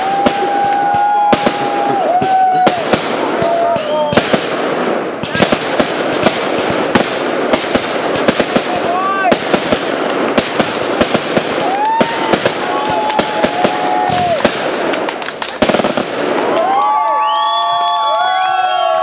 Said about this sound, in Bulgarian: Много по-много готина заря, по-хубаво от зарята на общината на центъра.